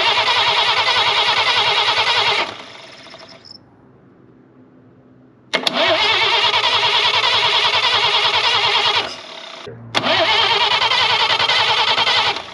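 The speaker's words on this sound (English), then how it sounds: "Let's crank it over and see what happens." A Chevrolet Blue Flame Stovebolt Six engine cranks over by starter in three loud, close, rhythmic bursts of a few seconds each, separated by quiet pauses, without firing or catching.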